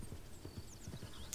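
Horse hooves clip-clop softly in the Red Dead Redemption video game, a quiet, steady run of hoofbeats with a faint snort near the end.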